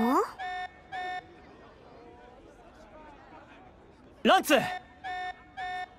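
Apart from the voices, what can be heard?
alarm sounding in Xenoblade Chronicles 3 video game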